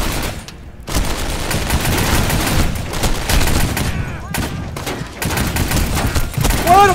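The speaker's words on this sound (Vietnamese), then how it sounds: "Ôi nó bắn kinh thế." Heavy gunfire rattles through a Dien Bien Phu war video game, dense overlapping bursts and booms that barely pause, loud and continuous with brief gaps.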